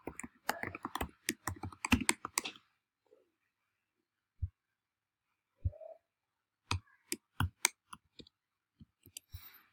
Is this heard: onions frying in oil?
no